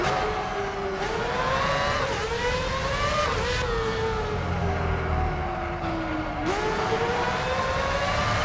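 Formula One race car engines in the PS2 game Formula One 06: a continuous high, screaming engine whine that rises and falls steadily with gear shifts, loud and close, with no talking.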